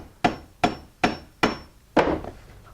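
Hammer blows driving a nail into a wooden sill plate band: four evenly spaced sharp strikes, then a fifth, heavier hit, close and loud with no talking.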